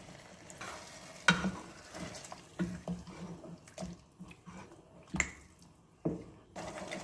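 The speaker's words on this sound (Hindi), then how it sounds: "1 कप चिकन की यखनी में मैंने 2 चम्मच इसके अंदर कॉर्नफ्लोर डाल के मैं अब इसमें ऐड कर रही हूँ।" Cornflour-thickened chicken stock is poured into a pan and stirred for chicken shashlik, giving soft liquid splashes, a gentle sizzle and intermittent spoon scrapes, fairly quiet and with no voices.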